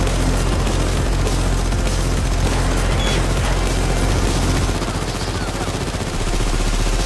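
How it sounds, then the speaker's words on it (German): C4 plastic explosive detonating during a Payday 2 heist, a loud, dense roar of blast noise that fills the whole stretch and rumbles on heavily, with no voices over it. "das kann ich auch aufsprengen, da habe ich auch ein paar so Bomben dafür"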